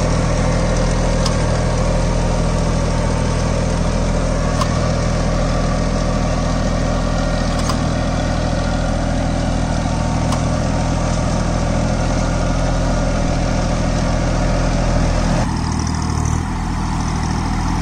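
A Farmtrac Atom 26 4WD mini tractor engine running at a steady idle-like throb, close and continuous, with faint periodic clicks over the low drone before a brief shift near the end.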